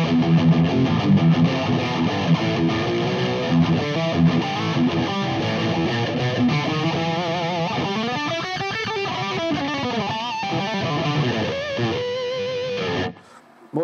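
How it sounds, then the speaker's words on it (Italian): Electric guitar through a Masotti OD Box distortion pedal with a harsh, raspy tone, loud and sustained chords that shift into bending, wavering notes before cutting off abruptly near the end. "Semplicemente lavorando sul tono, sentite come cambia il suono della distorsione, sempre acceso."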